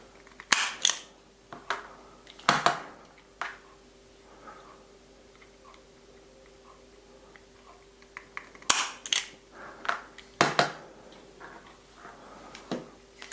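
A wire stripper set to 6 mm strips insulation from wire ends, giving a handful of sharp, close mechanical snaps and clicks, some in quick pairs, separated by quiet pauses with faint handling rustle.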